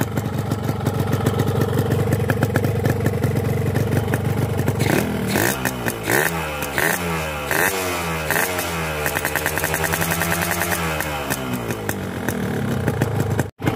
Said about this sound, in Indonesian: Suara mesin masih adem.